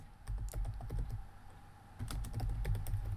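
Computer keyboard typing in bursts of quick, close key clicks, a steady run at the start and a denser flurry after a short pause, with no talking.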